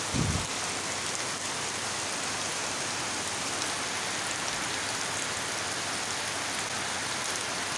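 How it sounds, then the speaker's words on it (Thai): Dense, steady rain pours down continuously, a broad even hiss with no voices. "ฝนตกแล้วพี่น้อง"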